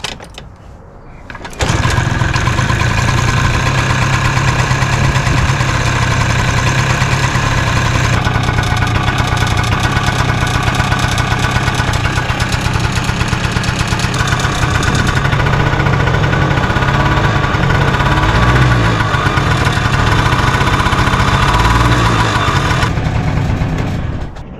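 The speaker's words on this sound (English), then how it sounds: "you may have heard that sort of tinny rattling sound" A 2000 Peugeot Elyseo 100 two-stroke scooter idling close by with a tinny rattle, loud and steady for about twenty seconds after a brief quieter start.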